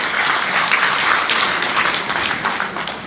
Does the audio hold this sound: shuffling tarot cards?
no